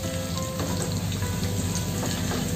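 Ginger and garlic sizzle steadily in hot oil in a pan, a continuous close crackling fry with no pauses.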